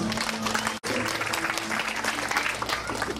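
A church congregation claps in praise during a sermon, a dense, loud wash of applause that runs steadily, broken only by a brief cut near the start, with a faint voice underneath.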